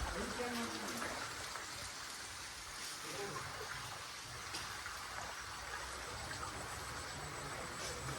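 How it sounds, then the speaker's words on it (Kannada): Steady rain falls around a temple in a soft, even patter and trickle of water, fairly quiet and continuous throughout. "ಅಲ್ಲಲ್ಲೇ ಮಳೆ ಬರ್ತಿದೆ."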